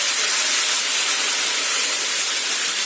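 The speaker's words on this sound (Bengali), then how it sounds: "এবার আমি জল দিয়ে দিচ্ছি।" Water poured into a hot pan with cumin powder gives a loud, steady hissing sizzle, close and continuous for about three seconds with no talking over it.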